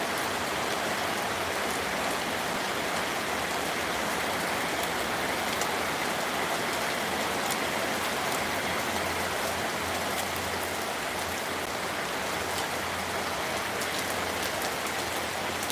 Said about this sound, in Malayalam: മഴ അങ്ങനെ തകർത്ത് പെയ്യാണ്